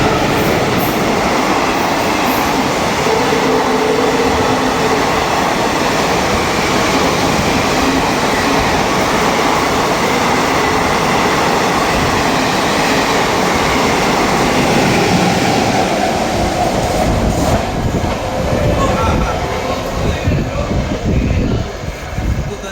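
A TOD special express train running to Kolkata speeds through Birnagar station at night without stopping, a loud, continuous roar of wheels and carriages sustained throughout, easing slightly near the end.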